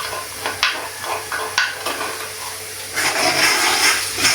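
Garlic tossed into okra frying in a pan, with close clinks and stirring taps followed by a louder hissing sizzle, with no talking.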